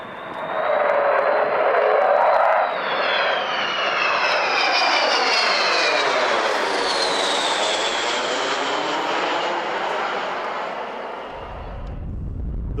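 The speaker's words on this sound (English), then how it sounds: "A jet-powered, tailless, delta-wing, high-altitude strategic bomber" Avro Vulcan, a tailless delta-wing jet bomber, roars overhead in a loud sustained pass, its engine howl sweeping and shifting in pitch as it flies by and fades.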